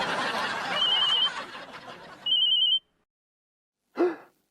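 A phone rings in short warbling bursts over a noisy room, first under background chatter and then alone, followed by silence and a brief vocal sound.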